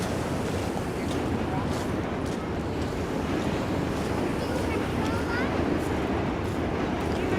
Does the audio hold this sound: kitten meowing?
no